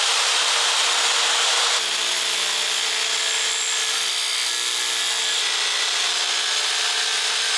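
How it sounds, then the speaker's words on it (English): A reciprocating saw cuts sheet metal from a BMW E28 engine bay with a loud, continuous harsh buzzing rasp whose pitch shifts slightly partway through. "it has like these blades in there, and that basically moves up and down super fast, and it cuts metal pretty nicely"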